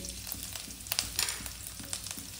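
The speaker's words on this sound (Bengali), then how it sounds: "একটু ফ্রাই হবে, তারপর দেব একটু পেঁয়াজ কুচি।" Chopped garlic, green chilli and ginger sputter softly in hot white oil, a quiet sizzle with small crackling pops and light stirring, no talk.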